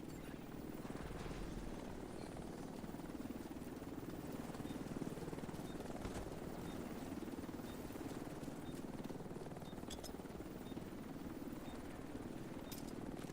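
A helicopter in the video game The Division 2 arrives for cargo extraction, its rotor thumping as a steady, loud, continuous drone throughout with no voices.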